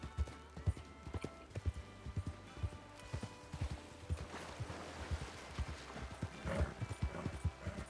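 Steady clip-clop of horse hooves trotting at an even rhythm in the roleplay game The Crossroads RP, fairly quiet, with a brief whinny and no talking.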